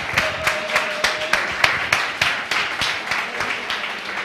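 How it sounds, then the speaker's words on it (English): Audience clapping at a startup demo day event in a hall, a steady sustained round of applause with sharp individual claps, some murmuring voices underneath. "I would like to give a big round of applause for the Start-Up Chile staff."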